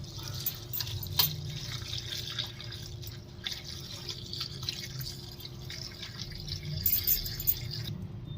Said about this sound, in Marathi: कच्ची धुते नळाखाली.